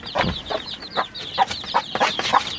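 Bantam hens cluck close by in a quick, uneven series of short, clipped calls, with a faint steady background hum between them.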